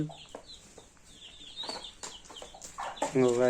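Free-range country chickens cluck nearby, with a rooster's louder, rising calls breaking in toward the end over a faint, busy farmyard background.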